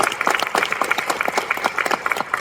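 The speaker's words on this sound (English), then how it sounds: "Let's give them a round of applause, first of all." Dense applause from an audience at a JROTC 30-year celebration, many hands clapping steadily and close, filling the whole moment without any voices.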